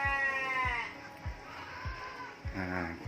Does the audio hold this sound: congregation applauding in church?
no